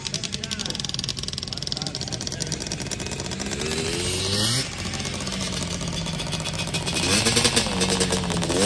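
Two-stroke dirt bike engine droning steadily at a backyard redneck racetrack, rising in pitch as it revs near the end, with people talking over it.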